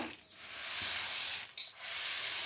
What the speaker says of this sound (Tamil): இப்போ தண்ணி நல்லா சலசலன்னு கொதிக்குது.